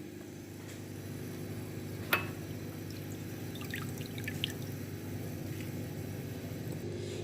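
Homemade potato spaghetti goes into a pot of boiling salted water with a spoonful of oil. A steady bubbling rumble runs throughout, broken by one brief splash early on and a few faint drips.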